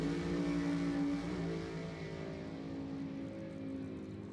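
Drag racing cars with roots blowers idle on the starting line at an NHRA event at Thunder Valley Motorsports Park, a steady loud rumbling drone with a sustained tonal whine that eases slightly as it continues.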